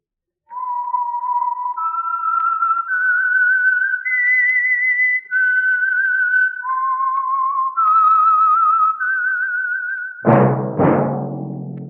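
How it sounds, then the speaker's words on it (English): A solo whistled melody, the theme of the 1949 radio show The Whistler, plays as clear sustained notes stepping up and down. It is heard alone and ends with a deeper musical note. "That whistle is your signal for the Signal Oil Program, The Whistler."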